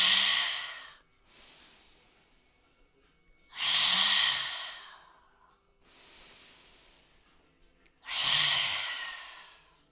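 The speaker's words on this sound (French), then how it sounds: "Expire par la bouche." During a yoga flow, someone breathes out hard through the mouth three times, loud and close. Each long breathy exhale alternates with a quieter, softer inhale through the nose, in a slow, steady rhythm.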